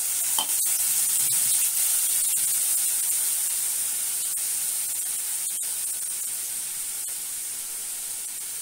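Tamarind water is tipped into a simmering curry pan, giving a steady hiss and sizzle with a few faint clicks of utensils, close and constant without any voices.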